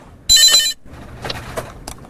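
A telephone rings at a call center of a traditional market in Daegu's Jung District, one loud electronic burst of about half a second, followed by quieter room sounds and handling noise.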